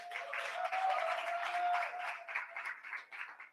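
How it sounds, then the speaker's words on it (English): At a tech community conference, an audience applauds its headline sponsors with a faint, distant patter of clapping that holds steady and then thins out unevenly toward the end. "Let's get a round of applause."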